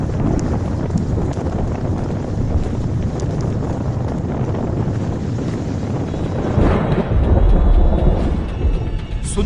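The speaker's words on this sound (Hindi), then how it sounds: "यहां पहुंचते हुए तूफान अपनी रफ्तार पकड़ चुका था और तबाही की शुरुआत हो चुकी थी" Super cyclone Amphan's storm winds at landfall on the West Bengal coast, a loud, continuous roaring rush with heavy wind buffeting the microphone and a stronger gust surging near the end.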